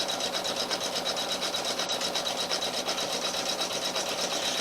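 An embroidery machine sews a bead stitch on freestanding lace appliqué, running with a steady, fast, close mechanical rhythm throughout.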